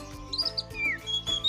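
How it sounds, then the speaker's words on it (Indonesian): A bird gives a few quick, high, whistled chirps, brief and light, over soft steady background music. "itu suara burung"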